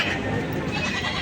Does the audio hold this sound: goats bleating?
yes